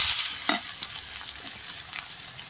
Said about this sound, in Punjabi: ਪਿਆਜ਼ਾਂ ਨੂੰ ਵੀ ਆਪਾਂ ਭੁੰਨ ਕੇ ਤੇ ਕਰਦੇ ਹਾਂ ਤਿਆਰ